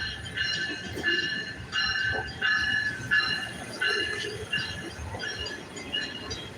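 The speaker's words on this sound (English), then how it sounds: "The train's coming." A train passes during an outdoor walk, its rolling rumble and repeating wheel clatter pulsing steadily with rising and falling bursts, fairly close and continuous with no talk over it.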